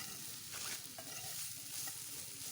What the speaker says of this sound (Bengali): আমি একটু নাড়িয়ে নিচ্ছি